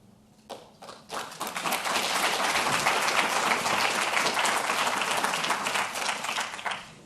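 After a few scattered early claps, a large room of people breaks into full, sustained applause for a group of entrepreneurs at a business school event, holding steady before tapering at the end.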